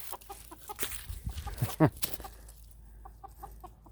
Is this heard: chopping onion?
no